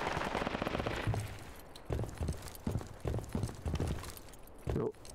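Bursts of automatic gunfire from the military shooter Project Reality 2 come as short, rapid clattering runs separated by brief gaps, moderately near and fairly quiet overall.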